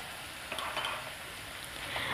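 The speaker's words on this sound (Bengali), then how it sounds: "এবার আমি এর মধ্যে দিয়ে দিচ্ছি আদা রসুনের পেস্ট।" Chopped onion and tomato fry in a pan over medium flame as ginger garlic paste goes in. A steady close sizzle continues throughout with light stirring scrapes, and no one speaks.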